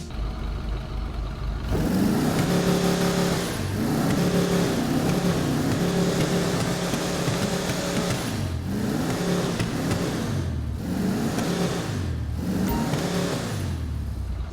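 An Albany Lurcher muscle car in GTA Online revs its engine and exhaust repeatedly, loud rising and falling bursts with a deep growling tone, several surges over steady engine rumble with no talking.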